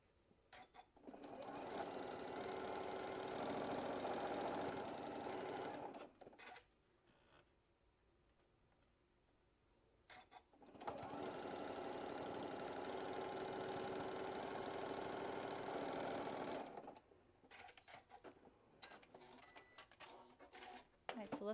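A sewing machine runs two long bursts stitching down a quilt block seam, a fast even whirring rattle, separated by quieter pauses with handling noise and soft talk.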